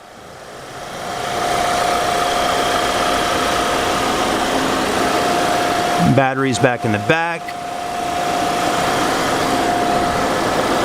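A Volkswagen Atlas's 2.0-liter four-cylinder TSI engine idles under an open aluminium hood, a steady close hum with a faint whine that continues while someone speaks briefly over it.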